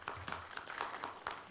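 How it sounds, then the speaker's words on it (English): Audience applause at a Lao–Korea energy forum conference session, a thin patter of scattered hand claps from a modest crowd, fairly close and steady, ending with one louder thump. "Please give him the applause."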